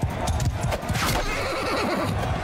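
Horse in a video game whinnying with a wavering neigh, with quick clip-clop hoofbeats and jostling game noise around it, loud and close.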